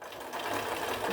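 A sewing machine stitches across a row in a brief, steady whir of rapid needle strokes that picks up slightly after a moment, heard alone and fairly close.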